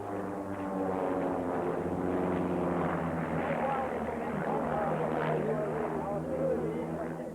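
A Pitts Special aerobatic biplane's propeller engine drones steadily and loudly throughout at an air show, with a slight rise in pitch midway as it maneuvers.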